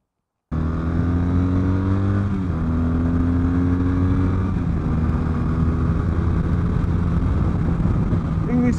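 Triumph Brooklands Bonneville café racer motorcycle engine on a test ride, a loud, close, steady hum with slight rises and falls in pitch, running without a break after a sudden start.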